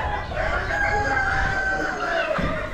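A big blue rooster crows loudly and close by at an outdoor Amish animal auction, one long drawn-out call over a steady rumble of wind.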